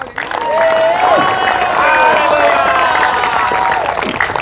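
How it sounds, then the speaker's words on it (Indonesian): A church congregation claps and cheers steadily, loud and sustained, with voices calling out over the applause throughout. "Tepuk tangan buat Tuhan Yesus."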